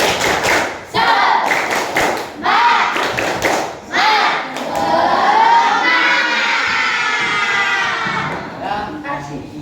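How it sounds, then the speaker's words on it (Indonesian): Classroom children at an Islamic primary school perform a rhythmic spirit clap, sharp clustered claps in quick bursts followed by loud shouting and chanting voices, close and lively throughout. "Tepuk semangat."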